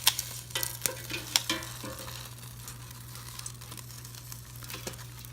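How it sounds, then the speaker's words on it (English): Food sizzling inside an air fryer basket pulled out mid-cook, a steady soft crackle with a few sharper clicks and clatters near the start, fading to a low continuous hiss over a constant mechanical hum. "it's sizzling along, as you can kind of see"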